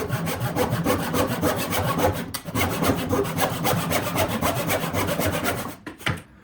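A hand saw cutting through a clamped piece of wood in steady, continuous back-and-forth strokes, loud and close, with no talking, ending in a few final rasping pulls.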